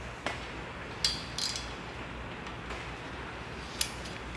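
Bolts on a BMW N54 engine being torqued during a rebuild give a few sharp metallic clicks and ratchet snaps, close and fairly quiet, scattered over a low steady background hum.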